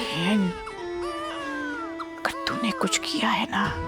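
A baby cries in wavering wails close by, while adult voices speak over it with a woman's raised, threatening tone.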